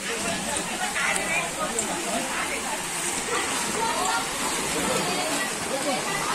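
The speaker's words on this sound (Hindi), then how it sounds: "ये है जबरदस्त पानी, तालाब में इतना पानी भरा हुआ है कि रोड लेवल से चल रहा है" An overflowing pond in Tifra, Bilaspur, flooded to road level, pours down like a waterfall in a loud, continuous close roar, with voices talking over the rushing water.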